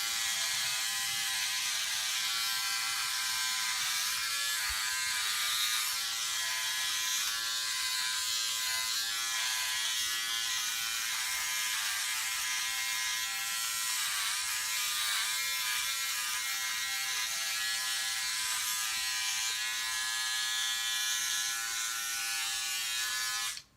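A Philips OneBlade electric razor buzzes steadily and loudly at close range for the whole stretch, its motor hum running without a break while it cuts through stubble.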